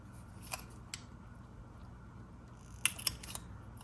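Scissors snip the small corners and end of a strip of packing paper, a few crisp close cuts over a quiet background.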